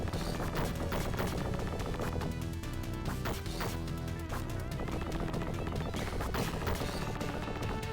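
Enemy gunfire in the Sega Genesis game TMNT Hyperstone Heist, rapid repeated shots and crashing hits, loud and continuous over busy game music.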